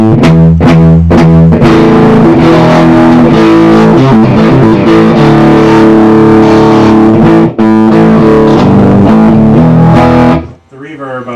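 A distorted electric guitar plays through a clipping 1968 Peavey Musician amp head, chords ringing with reverb, loud and gritty, before cutting off near the end.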